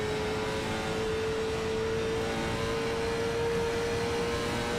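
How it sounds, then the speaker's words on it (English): On-board engine of race car 85 in an oval-track sim racing game, a loud continuous high-revving drone held steady at near full throttle for the whole stretch, with no talking. "I want to hear what his engine sounds like right now."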